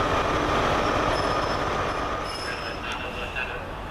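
A First Great Western high-speed train, the 1842 service from Bristol Temple Meads to London Paddington, rolls in with a broad rumble and high wheel squeal, loud and steady and easing slightly as it slows.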